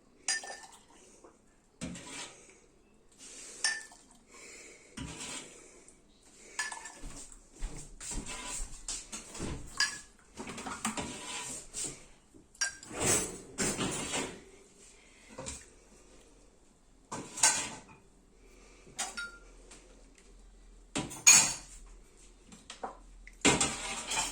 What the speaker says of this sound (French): ça on met directement dans le lave-vaisselle